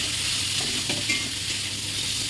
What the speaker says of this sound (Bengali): ক্যাপসিকামটাও মিলিয়ে দিচ্ছি